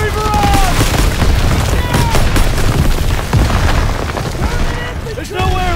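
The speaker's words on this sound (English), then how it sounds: "Artillery barrage!" Artillery barrage in the World War II shooter Call of Duty WWII, heavy explosions booming one after another close by amid gunfire and battle din, with shouting voices over the chaos.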